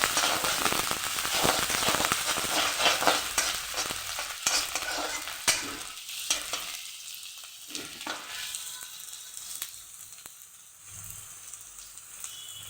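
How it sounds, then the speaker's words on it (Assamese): Onions fry in a little oil in a wok with dried red chillies, giving a loud, crackling sizzle with scraping stirs. The sizzle is intense at first, then settles into a quieter, steady hiss. "পিঁয়াজখিনি অকণমান ভাজিম।"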